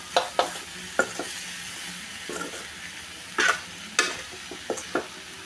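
Fish curry with spices frying in a pan, stirred with sharp scraping clinks of the spoon over a low steady sizzle; fairly quiet and close, with no voices.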